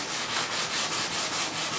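Steady rhythmic scratching of 220-grit sandpaper rubbed back and forth by hand over wood, close and even, with no talking.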